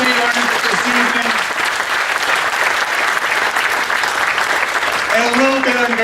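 Audience clapping after a hypnosis show at an evening event, loud dense applause filling the whole stretch while a voice speaks over it at the start and end.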